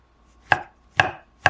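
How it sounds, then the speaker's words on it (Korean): Garlic being finely chopped with a knife on a cutting board, three crisp, evenly spaced chops about half a second apart, close and clear, with no voices. "마늘은 잘게 썰어 작은 팬에 넣을게요"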